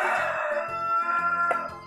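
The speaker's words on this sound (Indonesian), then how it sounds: "maaf, abaikan suara ayam ya bunda" Rooster crowing nearby in a home kitchen while a simple chocolate birthday cake is being made, a loud drawn-out call lasting the whole stretch, with rhythmic low thumping underneath.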